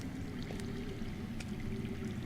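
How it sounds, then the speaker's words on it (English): Underground water flows faintly in a Game of Thrones video game, a soft, steady rushing wash with a low rumble and a couple of small splashy accents, distant and continuous. "I hear water. From underground."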